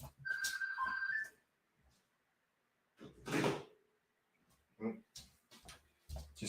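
A phone rings with a short electronic tone and is then switched off, followed by faint handling clicks and knocks, heard close in a quiet room with no speech.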